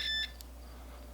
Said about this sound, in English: when you close the circuit, it makes that little beeping noise